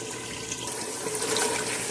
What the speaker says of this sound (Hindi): तो अब हम इसमें पानी ऐड करते हैं।